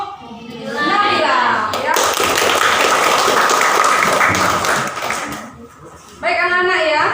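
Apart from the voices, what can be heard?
classroom applause, hand clapping for a student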